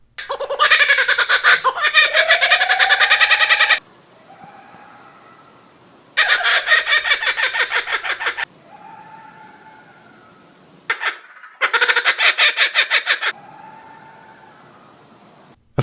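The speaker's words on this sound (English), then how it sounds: "And then this is a kookaburra," Kookaburra giving loud, raucous laughing calls in several long bursts of fast cackling notes, separated by quieter hooting, wavering phrases; close and dominant with no talk.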